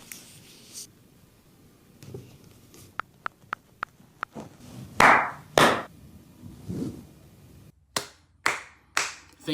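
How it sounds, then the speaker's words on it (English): Hands clapping in uneven bursts: a few sharp single claps, then a run of quick light claps, followed by louder, broader claps near the end, fairly close with quiet gaps between. "I am clapping, but it is for a different reason."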